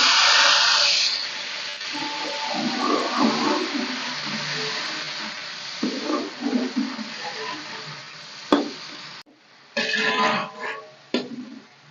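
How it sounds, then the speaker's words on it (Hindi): Spices are tipped into fried onions for a black chickpea pulao, bringing a steady hiss of sizzling oil with scraping stirs against the pan, close and fairly loud, easing and breaking off near the end. "देखिए प्याज हो गया, अब इसके अंदर मसाला डाल रही हूँ।"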